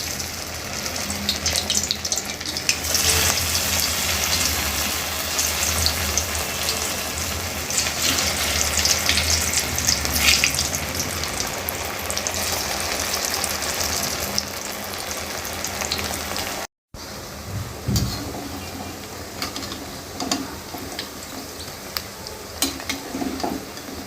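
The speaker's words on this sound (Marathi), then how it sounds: "आपण आता आपलं तेल तापलं आहे. आता आपण त्यात एक एक अळूवडी सोडून घेऊया." Taro leaf rolls (aluvadi) filled with a chana dal mixture frying in hot oil, a steady loud sizzle and bubbling that runs throughout, with a brief cut near the end.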